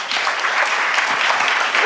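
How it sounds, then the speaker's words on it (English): Dense audience applause filling the room, a steady loud roar of many hands clapping at once, with no break and no clear speech over it. "Let's clap it up for this guy."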